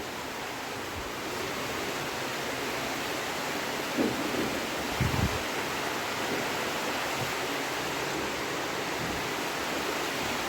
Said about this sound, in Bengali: জোর বৃষ্টি চলে এসেছে